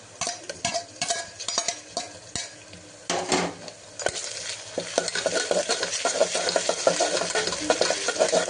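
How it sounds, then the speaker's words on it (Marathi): Onion ginger garlic paste hits a hot pan and is stirred, with repeated spoon scrapes and clinks over a sizzle that grows louder and more continuous toward the end. "आता कांदा अद्रक लसूणचे पेस्ट टाकते."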